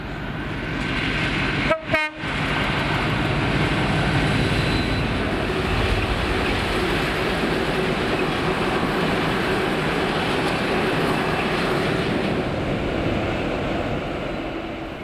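Class 56 diesel locomotive 56094 hauling a loaded aviation fuel oil train from the Grangemouth oil terminal to Prestwick, passing loud and close, a brief horn blast early on and then a steady heavy roar of engine and wagons throughout.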